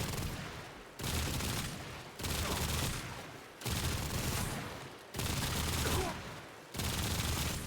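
Rapid gunfire from the video game Warframe, aimed at headshots: five loud, dense bursts of shooting, each lasting about a second, separated by short quiet gaps.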